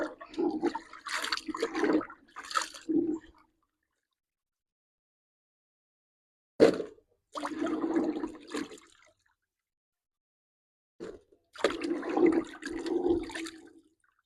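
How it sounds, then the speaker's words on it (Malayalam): Turmeric rhizomes being washed in water before boiling and drying for powder, in several separate bursts of close sloshing and splashing divided by long silent pauses. "ഇതൊരു കഴുകലുള്ളൂ, ഇങ്ങനെ ഒരുപാട് ഇനിയും കഴുകും."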